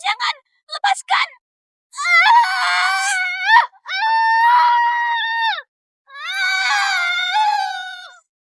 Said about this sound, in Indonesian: Pasti teriakan dari pembantu rendahan di luar itu yang membuat Anda gelisah.